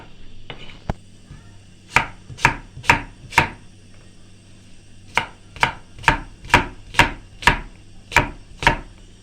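A knife chops green apples on a board: a single knock, then a run of four evenly spaced crisp chops, a short pause, and a longer steady series of about nine more, close and clear, with no talking.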